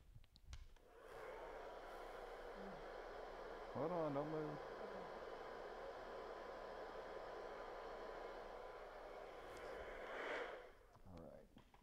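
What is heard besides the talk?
blow dryer drying hair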